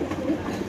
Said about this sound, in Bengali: তারপরে এখানে আছে এক জোড়া গিরিবাজ কবুতর।